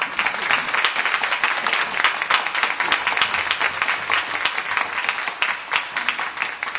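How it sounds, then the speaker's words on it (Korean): Church congregation at a Sunday worship service applauds steadily to welcome a guest preacher, a loud, sustained crowd of clapping hands filling the sanctuary with no pauses. "여러분 박수로 환영해 주시면 감사하겠습니다"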